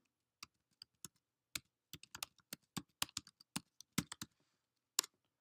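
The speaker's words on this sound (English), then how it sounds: "we are going to type in jngcontractors.com" Someone types a web address on a computer keyboard in a quiet room, a string of crisp, close key clicks arriving in uneven bursts with short pauses between.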